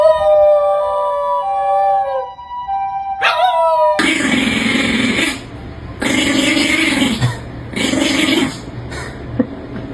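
A puppy howls in long, wavering tones, first alone and then over louder, broader noise that rises and falls in repeated bursts, close and fairly loud throughout.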